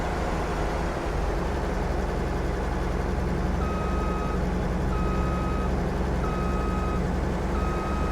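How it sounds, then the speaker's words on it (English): Farm vehicle in a farming video game reversing with a header trailer, repeated evenly spaced reversing beeps over a steady engine drone. "Reversing trailers with the rear steering machine is quite a lot easier than with the front steering."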